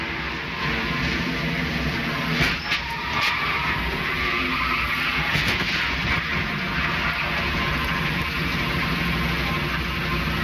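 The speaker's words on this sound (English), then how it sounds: "now we go on board with Michael Waltrip" In-car sound from a NASCAR stock car during the 2000 DieHard 500, a constant loud engine roar with road and tire noise filling the whole stretch, with brief bumps and rattles.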